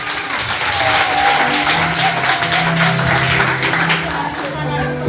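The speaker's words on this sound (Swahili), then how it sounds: "Hebu toa makofi ya kilo" A church congregation claps loudly and steadily through a live Sunday service, a dense, continuous wash of many hands with voices and music underneath throughout.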